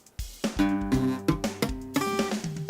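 A guitar barre chord is plucked string by string, some notes ringing out while others thud dully as muted, in a quick uneven run.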